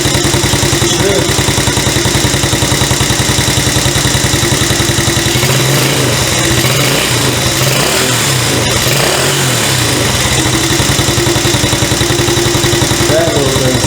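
A Chinese CT-125 ATV four-wheeler engine runs after its first start, a loud, steady, close mechanical idle that continues unbroken with light clatter throughout.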